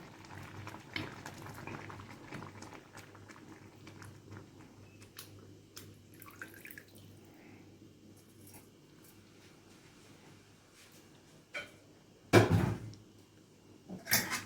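Cooked rice with milk just poured in simmers at a low, steady bubble, faint and close, with a few small knocks and one louder clatter near the end, no talking.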